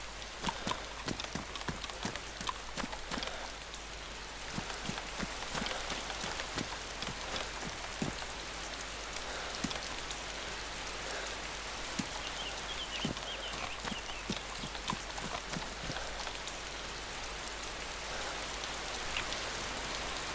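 Steady rain patters down in the DayZ survival game, a dense continuous hiss of drops striking surfaces with scattered sharper taps, close and even throughout with no voices.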